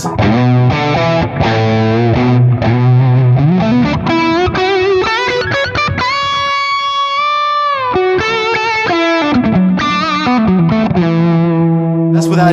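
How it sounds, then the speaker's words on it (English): Overdriven electric guitar playing a lead line through a Fender Lone Star amp with echo and a loop, no pedals in front, bass turned almost off; sustained singing notes and bends, loud and continuous throughout. "That's just the tone of the Lone Star itself with the echo and the loop."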